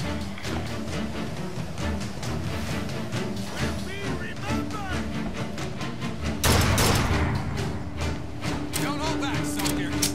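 Enemy gunfire in Bioshock Infinite rattles in repeated close shots and thumps beneath ongoing game effects and some talking, with a sharp, louder barrage erupting partway through.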